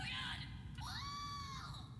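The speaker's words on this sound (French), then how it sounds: "ça se résume principalement à des cris, en fait, ce que cette poupée fait" A doll screams in an easter egg from the video game Subnautica, shrill rising and falling wails with a sharp break partway through, loud and synthetic-sounding against a steady background.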